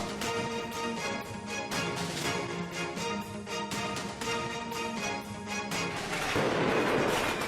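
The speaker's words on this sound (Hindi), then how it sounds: "प्रदर्शनकारियों ने फायरवर्क्स से किया हमला।" Fireworks fired by protesters during violent street protests in Tbilisi, Georgia, give a dense, continuous barrage of loud cracks and booms over crowd noise, without clear speech.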